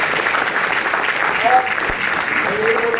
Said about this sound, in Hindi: पूरी इंटायर APL की टीम के लिए पर जोरदार ताली होनी चाहिए।